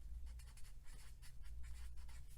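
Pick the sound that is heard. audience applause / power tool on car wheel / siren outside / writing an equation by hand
writing an equation by hand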